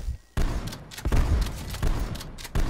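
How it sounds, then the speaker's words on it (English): Rapid booms and thuds burst one after another, dense and punchy like explosions going off in a game. "It sounds like explosions."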